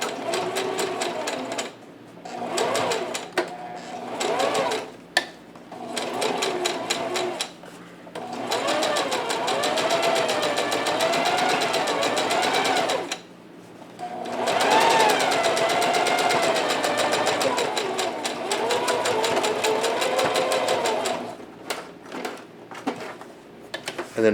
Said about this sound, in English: I'm going to go very slowly, just making sure I push that wire as far as I can so I don't hit it when top stitching.